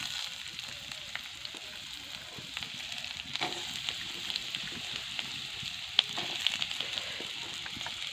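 Potato pieces frying in a little hot oil for an egg bhujia, giving a steady soft sizzle with scattered pops and crackles throughout, close and moderately quiet, with no talking.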